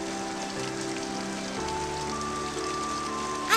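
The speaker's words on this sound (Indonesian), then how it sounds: "semoga hujan ini bermanfaat" Steady rain falling and pattering on surfaces, an even wash of sound throughout, mixed under soft background music.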